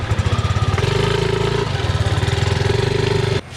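A motorcycle engine runs loud and close with a steady, pulsing mid-range drone that shifts briefly as the bike moves off, then cuts off abruptly near the end.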